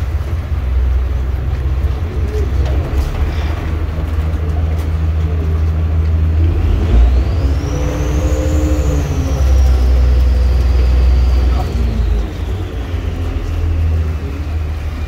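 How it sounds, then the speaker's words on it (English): Boat traffic on Venice's Grand Canal rumbles as a loud, continuous low engine drone, with a passing craft adding a rising and falling whine midway. "Traffic on the Grand Canal."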